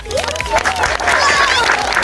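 A crowd applauds and cheers three winners of an outdoor school attention game, with dense clapping throughout and voices mixed in.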